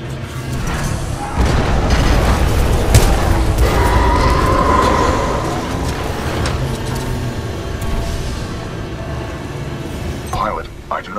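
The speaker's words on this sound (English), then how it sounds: "a series of explosions just weakened the manipulator arm" Rumbling series of explosions in the video game Titanfall 2, heavy booms and thuds rolling continuously for several seconds, loud and dense, with a voice speaking near the end.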